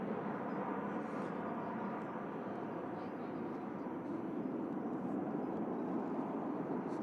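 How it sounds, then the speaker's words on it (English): A Virgin Atlantic A330 airliner departs Manchester Airport bound for Orlando, its jet engines a steady, broad roar that holds evenly throughout at moderate distance. "Virgin A330 heading out to Orlando."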